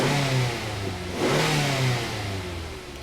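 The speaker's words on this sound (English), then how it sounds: "I'm gonna start the engine." Engine of a 2008 Mazda 3 with an oxygen sensor circuit fault, recorded from inside the car, running and revving up and down in a couple of swells, close and clear with no talk.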